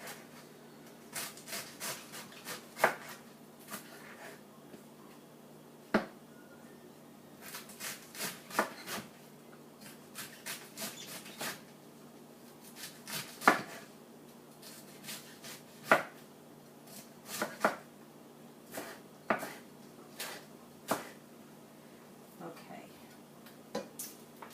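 A knife slices crosswise through beef about a quarter inch thick on a cutting board, giving a string of close, irregular chopping taps and rubs over a steady low hum, with short pauses between cuts.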